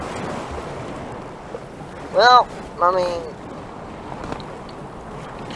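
Broad, continuous ocean wash and wind roar around a sinking oil tanker in the video game Stormworks, steady throughout, with someone briefly speaking over it midway.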